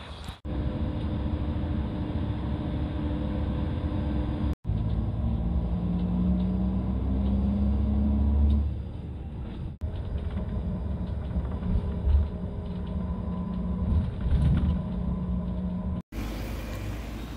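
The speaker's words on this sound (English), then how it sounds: "I'm in Bled's bus station now." Ambience at the bus station in Bled, Slovenia: a steady low rumble of idling engines and traffic fills the scene, with a few brief dropouts and louder surges of engine noise partway through.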